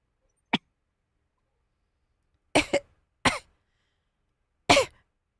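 A woman coughs in a played-back recording: one short sharp cough, then after a pause a double cough and two more single bursts, loud and close with silence between.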